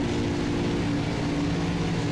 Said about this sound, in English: You'll be hearing the engines rev